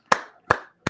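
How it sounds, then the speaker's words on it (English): Three sharp hand claps spaced about a third of a second apart, loud and close with short room decay, alone with no talk. "Hand clap."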